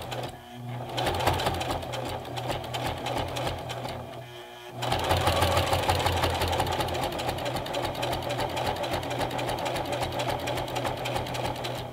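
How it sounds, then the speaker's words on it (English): Singer Heavy Duty 4432 sewing machine stitching 3 oz leather at its longest stitch length, a steady loud mechanical whir that pauses briefly near the start and then runs continuously and close. "Grab my thread tails here, and we'll start sewing."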